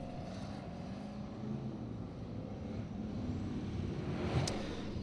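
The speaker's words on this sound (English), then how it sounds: "Páll uses a turbocharged Chevy V8, a relatively new trend in Formula Offroad." A Formula Offroad car with a turbocharged Chevy V8 engine at an event in Akureyri, Iceland, a sustained engine roar that rises slightly in intensity, heard from a distance with a sharp transient near the end.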